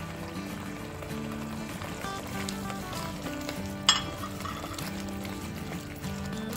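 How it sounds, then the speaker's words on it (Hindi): Spices fry in oil in a pan for a kofta curry, a steady close crackling sizzle running throughout with one brief clatter near the middle. "बस देखें अच्छे से भुनाई हो गई है, तेल अलग हो रहा है इसमें से"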